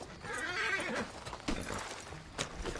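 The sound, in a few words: horse neighing in video game Red Dead Redemption 2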